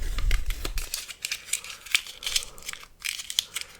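Paper is peeled away and crumpled during a card trick, producing a run of close, crisp crinkling and tearing crackles in irregular bursts with brief quiet gaps between them.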